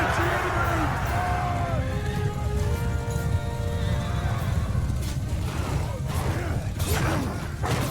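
Horses in a Mount & Blade II Bannerlord battle: loud whinnies and neighs ring out over a dense galloping clatter of hooves and battle noise, with the cries repeating several times across the clip.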